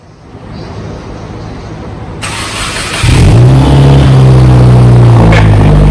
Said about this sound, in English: You ready to give it a first cold start?